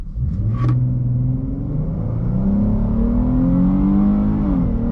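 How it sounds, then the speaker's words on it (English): A 2021 Chrysler 300S V6 engine revs hard and climbs steadily in pitch as it accelerates at full throttle, loud and close, with a rumbling low end. "I will mash that accelerator to the floor."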